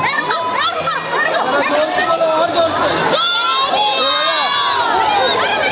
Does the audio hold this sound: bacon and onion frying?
no